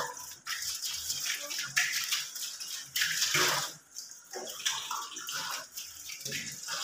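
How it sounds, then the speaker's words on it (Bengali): Dishes being scrubbed and rinsed under running water at a household sink, a steady wash of splashing and clinking with a dog barking now and then. "দেখো আমি বাসন মেজে দিচ্ছি এখানে"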